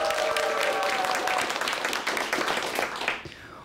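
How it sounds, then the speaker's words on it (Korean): Studio audience at a televised lecture breaks into loud, steady clapping that fills the room before tapering off at the end. "큰 박수를 주셔야죠"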